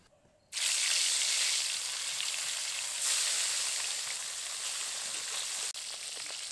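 Pieces of bān fish frying in hot oil during village-style fish curry cooking, a loud, dense, continuous sizzle that starts abruptly and holds steady with one brief dip near the end.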